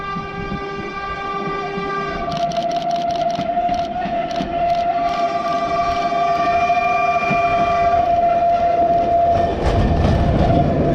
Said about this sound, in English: That little train can move it.